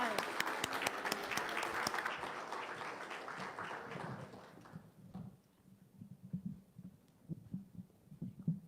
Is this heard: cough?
no